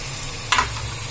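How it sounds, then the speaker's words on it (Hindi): Fried onions go into roasted masala in a pan, a soft continuous frying hiss broken by one brief louder splash of sizzle as they land, no voices. "मेरा मसाला भी भुन चुका है और मैं इसमें अब डालूंगी ये प्याज तली हुई।"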